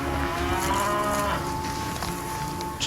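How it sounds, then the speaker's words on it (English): A cow moos in a long, loud, sustained call outdoors in the Bluff Creek woods, heard alone with no talk. "Kelly, that's a cow, not a Bigfoot."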